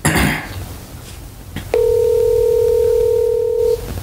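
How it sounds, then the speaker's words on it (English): An outgoing telephone call rings once at the caller's end: a steady electronic ringback tone that holds for about two seconds after a brief rustle and a soft click, heard close on the line. "Should we give it three more rings?"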